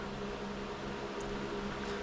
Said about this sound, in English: you can hear a whirring going away in the background. It's the big fan on